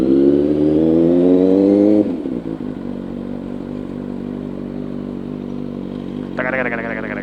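A CFMOTO 750SRS motorcycle engine revs hard while riding, with a strong rising whine that drops sharply as it shifts, then a steady rumble that climbs again near the end.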